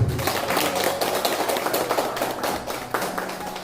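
Audience applause welcoming a lifelong education institute director at a Korean landscaping course entrance ceremony, a dense steady clatter of many hands clapping throughout, fairly close, with no voices over it.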